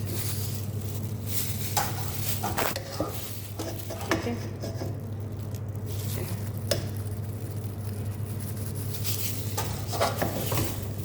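Spoon scraping and stirring in a pot while rice is layered onto tikka biryani, soft intermittent clinks and scoops over a steady low kitchen hum, no talking.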